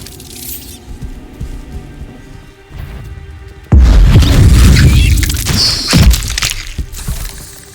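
A Bombarda blasting spell detonates in the video game Hogwarts Legacy, a sudden loud boom with shattering debris and crumbling, after a quieter stretch of ambient game sounds.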